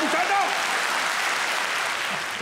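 Dense, steady audience applause fills a tribute show honoring Raymond Devos from start to finish, loud and close, with a voice faintly underneath.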